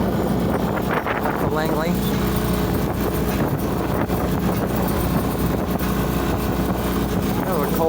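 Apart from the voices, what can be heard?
sailboat motor sailing on Puget Sound in winter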